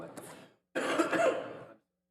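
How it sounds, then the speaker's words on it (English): Two bursts of coughing close up, a short rough cough followed after a pause by a longer, harsher fit. "I just can't stop coughing"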